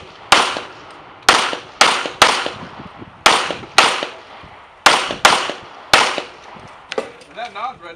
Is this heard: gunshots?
yes